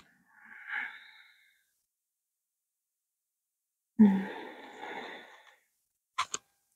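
Deep, slow breaths during yoga practice: a soft sigh-like exhale, a long pause of silence, then a louder, longer breath, followed by two quick sharp sniffs, close to the microphone.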